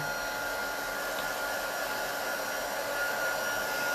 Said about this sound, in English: Now I'm gonna emboss this with the heat tool.